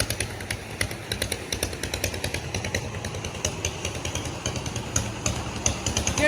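A rice threshing machine processing aman paddy on a farm runs continuously with a dense, clattering mechanical drone, steady and moderately loud throughout.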